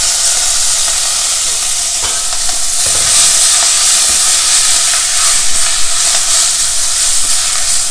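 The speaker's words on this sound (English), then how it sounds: "Just stir fry it for 2 to 3 minutes." Chopped methi leaves stir-fried in oil with mustard seeds and urad dal in a pan, giving a loud, steady, continuous sizzle and hiss with faint stirring scrapes throughout.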